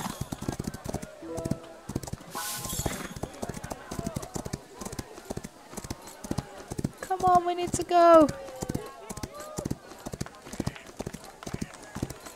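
Steady clip-clop of horse hooves in the video game Rival Stars Horse Racing, an even, rapid rhythm of hoofbeats running throughout, with a brief neigh midway and a person talking over it.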